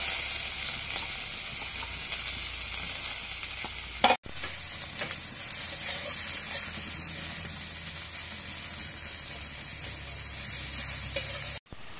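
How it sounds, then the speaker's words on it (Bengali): Sliced onion frying in hot oil in a rural home kitchen, a steady, close, bright sizzle with stirring, broken by two brief near-silent gaps. "এখন তেলের মধ্যে পেঁয়াজটা ভেজে নিয়ে যাবে।"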